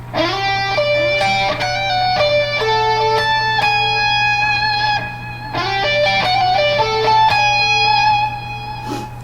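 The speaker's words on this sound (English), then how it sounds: "the lick leading into the awesome, huge chorus riff sounds like this" Electric guitar plays a quick melodic lick of bright, sustained notes that leads into a big chorus riff, two similar phrases heard up close over a steady low hum, with no talk.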